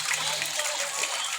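Water gushing steadily from an outdoor tap or spout in a rural spot, a close, continuous hissing splash filling the whole short stretch with no talking.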